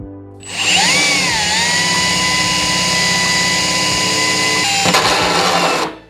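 A power tool cuts into a fiberglass and cement object: a loud, close, high whine spins up, holds steady for about four seconds, then breaks into rough grinding before stopping, with no talking.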